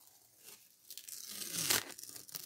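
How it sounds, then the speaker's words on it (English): Old tape being peeled off the motor of a Hoover Turbopower vacuum cleaner, a close, quiet ripping and crinkling that builds into a louder tearing burst before settling into softer peeling noises. "So what we're going to have to do now is peel off this tape around here."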